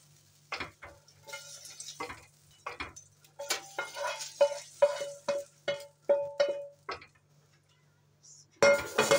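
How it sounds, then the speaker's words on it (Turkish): Melted butter poured over a lentil bulgur pilaf crackles and sizzles in bursts, with spoon stirs and clinks against the pot between pours, then a final loud sizzle. "Şimdi yağ üzerinden dökelim."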